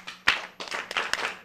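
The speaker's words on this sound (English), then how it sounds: "Clap for Ibitamuno" Clapping for a child at a children's Sunday church service, a few short bursts of hand claps close by, scattered rather than a sustained round.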